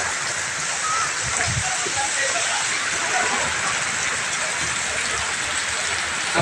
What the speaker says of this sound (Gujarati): જોરદાર વરસાદ કર્યો આખા જીવોદરમાં પાણી પાણી થઈ ગયું